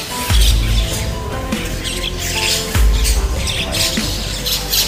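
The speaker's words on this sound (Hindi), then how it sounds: "ये हम लोग की कचौड़ी पा के चिड़िया की इकट्ठा हो गई ढेर सारी।" A large flock of birds crowds around kachori crumbs outside Varanasi airport, squawking and chirping loudly and continuously at close range, with a few heavy low thumps standing out against the steady calls.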